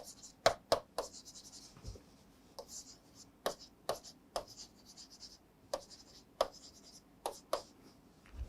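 Marker or chalk scratching across a board as operation names are written, a string of short sharp strokes and taps with pauses between, quiet and close, with no talking.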